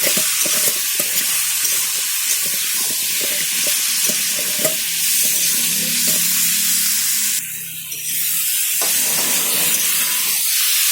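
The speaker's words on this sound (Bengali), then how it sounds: "জিরে গুঁড়ো একটু দিয়ে ভালো করে মিশিয়ে নেবো" Spoon stirring ground cumin into a fish and bottle gourd curry in a pan, with steady scraping strokes over a continuous sizzle and a brief hissing burst near the end, close and fairly loud.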